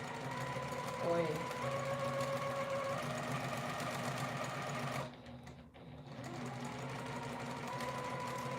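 A sewing machine stitches overall bibs and facing in a steady, fast mechanical whir, close and continuous, pausing briefly midway before resuming, with someone speaking over it.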